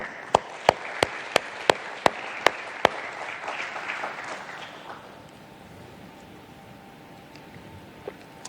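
Sharp, evenly spaced claps ring out over a crowd's applause at a company's stock-exchange listing ceremony. The clapping fades after about five seconds, leaving a quiet room.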